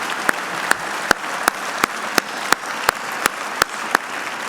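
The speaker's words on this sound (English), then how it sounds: "Let's give them both a round of applause." An audience applauds at a preservation awards ceremony, with steady clapping from a crowd indoors and a few louder, sharper claps standing out at a regular pace.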